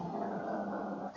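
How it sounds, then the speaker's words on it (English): A dog growls close by in one low, steady, unbroken rumble lasting about a second, with no talking over it. "I hope my dog will stop it as well."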